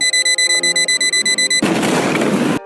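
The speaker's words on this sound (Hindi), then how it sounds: "धमाका इतना जोरदार था" A rapid, pulsing electronic alarm beeps about a dozen times, then a loud, sustained explosion roars for about a second before cutting off abruptly.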